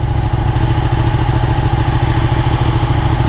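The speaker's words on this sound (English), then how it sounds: "test riding a Ducati 959 Panigale" A Ducati 959 Panigale engine running close by, a loud steady rumble with rapid rhythmic pulsing that holds throughout.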